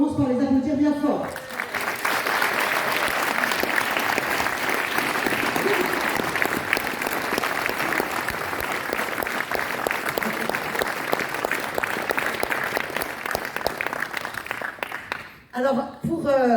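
A public meeting audience in Cahors applauding loudly, a dense sustained wave of clapping for about fourteen seconds that fades out, with brief speech before and after.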